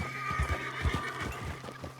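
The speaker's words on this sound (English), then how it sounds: "I've already got a main horse." Horse neighing loudly with clip-clopping hooves in the Red Dead Redemption 2 video game, a few hoof beats and whinnies close up over a steady game backdrop.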